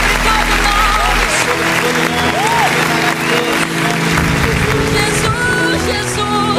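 A congregation applauds during a church worship service, sustained clapping and crowd noise over a music backdrop with sustained tones and occasional voice sounds, loud and continuous.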